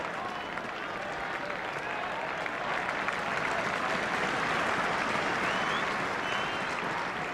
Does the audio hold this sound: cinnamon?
no